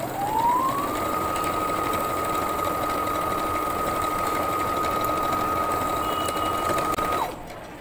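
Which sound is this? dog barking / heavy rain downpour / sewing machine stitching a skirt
sewing machine stitching a skirt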